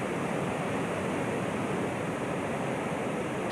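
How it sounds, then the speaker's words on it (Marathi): Steady, continuous rushing of Savatkada waterfall in Rajapur, Ratnagiri, swollen by monsoon rain, a dense roar that neither rises nor falls, with no voices. "आता जर आपण बघितलं तर धबधबे देखील प्रवाहित झालेत"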